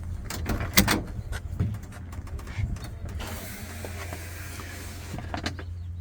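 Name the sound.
door of a custom 1955 Chevy 210 opening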